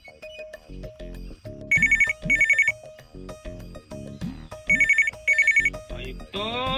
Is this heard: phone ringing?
yes